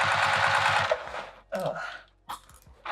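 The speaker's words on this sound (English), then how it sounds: "I'm using a 3mm stitch length because I'm sewing the vinyl here." A sewing machine stitches vinyl for a handbag at a 3 mm stitch length, with a close, fast rhythmic run of needle strokes for about a second, then stops, leaving short scuffing handling noises.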